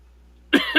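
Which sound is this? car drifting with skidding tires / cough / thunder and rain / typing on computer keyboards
cough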